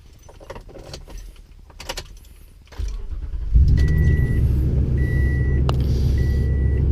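Toyota Tundra pickup cold-starting after sitting 11 days: keys rattle in the cabin, a brief starter crank, then the engine catches and settles into a steady, loud idle rumble with a chime repeating in the background.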